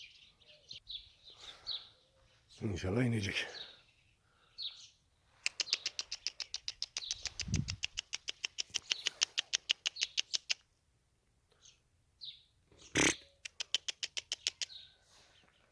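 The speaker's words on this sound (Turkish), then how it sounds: "Kuş bayağı bir gezmeye başladı." A white male pigeon flying low and circling, with rapid trains of wing claps and flutter bursts alternating with chirps and quiet gaps, close by, with a brief spoken line.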